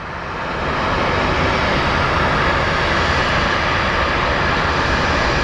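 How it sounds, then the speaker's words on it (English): An airplane taxiing at Phoenix Sky Harbor airport gives off a steady, fairly loud broadband engine roar that swells in over the first second and then holds evenly, with no talk. "Banana Plane is on the taxiway."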